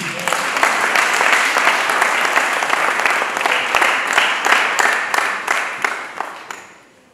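A church congregation breaks into sustained applause, a dense wash of many hands clapping that holds steady for several seconds, then thins and fades away at the end.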